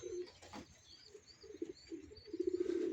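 Racing pigeons in a loft coo softly in repeated low, throaty phrases that grow more frequent toward the end, with faint rustling behind them.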